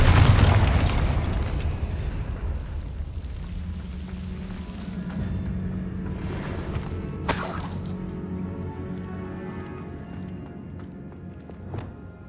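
A Confringo spell blast in Hogwarts Legacy opens with a loud, deep explosive boom that rumbles and fades over several seconds, followed by a sharp crack and lighter game sounds, with no talking.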